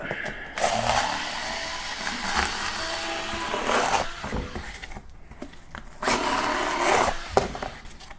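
A Ryobi power cutter chopping through cardboard boxes, heard up close in a series of buzzing motorized cutting bursts with rough crunching of cardboard between short pauses, no talk over it.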